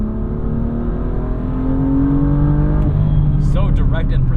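A BMW M2 tuned with a bigger turbo revs up with a steady, rising engine drone heard close from inside the car, with a person starting to talk near the end.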